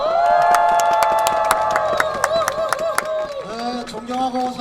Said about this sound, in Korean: 여러분들의 함성과 큰 박수로